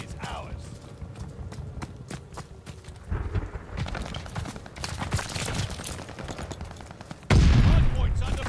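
Game gunfire at the Berlin hardpoint, a busy spread of rapid shots and bursts running throughout, with a loud, dense volley breaking out near the end while players talk over it.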